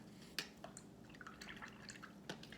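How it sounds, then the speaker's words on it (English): Paintbrush dipped and swished in a dish of clean water during kids' painting, a brief close splash followed by light dripping and trickling. "I'm going to put my paintbrush into a clean water."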